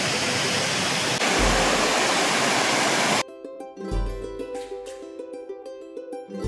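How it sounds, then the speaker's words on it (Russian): A steady rush of falling water at Materuni waterfall in Tanzania roars for about three seconds, then cuts abruptly to a quieter scene with music-like tones. "Это водопад Матеруни."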